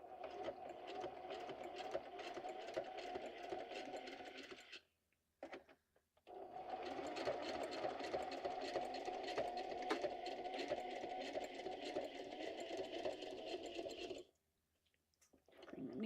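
A sewing machine stitches a junk journal in fast, steady bursts of mechanical whirring, close and alone, broken by two short pauses before the stitching resumes.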